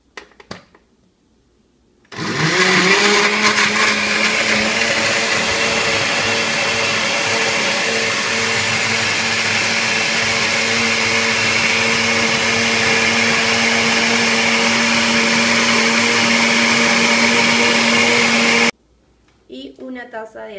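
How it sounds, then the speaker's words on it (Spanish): A blender whirs loudly and steadily as it blends coconut banana pudding batter, starting abruptly after a short quiet moment and cutting off near the end. "Y todo esto lo licuamos."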